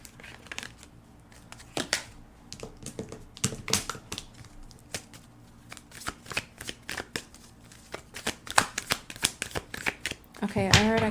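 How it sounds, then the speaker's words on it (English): A deck of tarot cards being shuffled by hand, giving repeated crisp riffling and rustling bursts in an uneven rhythm, close up, with a voice speaking at the end. "I'm going to stop shuffling and grab another deck."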